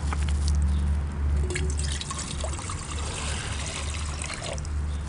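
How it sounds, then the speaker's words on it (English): Water trickles and drips steadily into a metal pot on a coffee can rocket stove, with a continuous low outdoor rumble underneath. "and pour some water in there"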